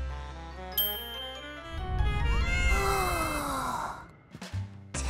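A cartoon cat meows with a long, sighing caterwaul against background music with a bright chime, the yowl sliding down in pitch before a few short thuds at the end.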